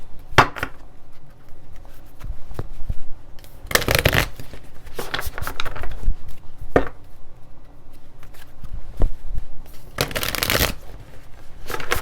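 Tarot cards shuffled by hand near the listener, a run of riffling bursts and soft slaps repeating irregularly, alone without talk.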